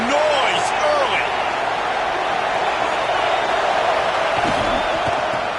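A dense stadium crowd roars steadily in a college football video game, a broad continuous wash of noise with scattered shouts and whoops.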